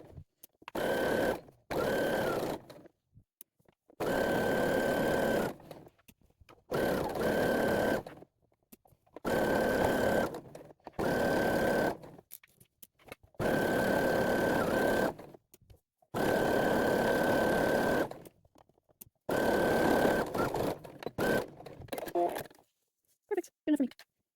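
A sewing machine stitching hoodie fabric in bursts of rapid whirring, about nine runs of a few seconds each separated by short pauses, close and clear with a steady motor whine, ending in a few small handling sounds.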